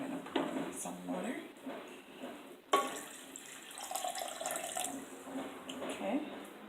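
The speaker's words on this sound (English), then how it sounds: "I'm going to pour in some water." Water pours steadily into a container of lemon juice and ginger for a mango juice, a soft continuous trickle running under a voice speaking nearby.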